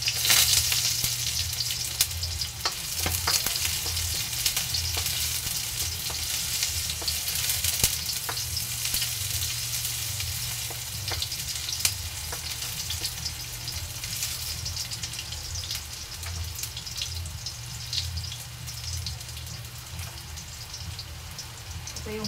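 Garlic sizzles and fries in hot oil in a pan, a steady crackling hiss with tiny popping spits throughout, close and continuous with no talking.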